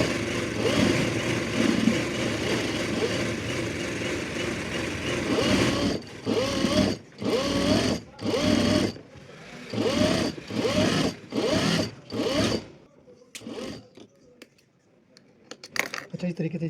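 A sewing machine stitches an abaya hem in a long continuous whir, then in a series of short, evenly spaced bursts with pauses between them, up close; someone speaks over the first part.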